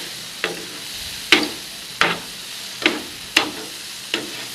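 Tawa kaleji masala with small green chillies stir-fried on a griddle: a continuous sizzle punctuated by six sharp spatula scrapes at a loose, uneven rhythm, close and loud with no voices.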